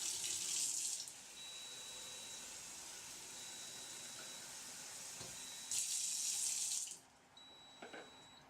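Cold tap water gushes into a lab cistern in two bursts, separated by a quieter stretch with thin beeping tones, then flow stops and faint clinks follow.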